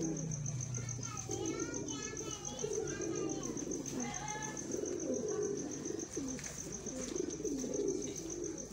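A pigeon, the female of a golden breed, is held in hand while soft coos and chirps sound close by, over a constant high electronic tone, with people talking throughout.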